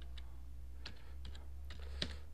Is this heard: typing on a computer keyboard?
yes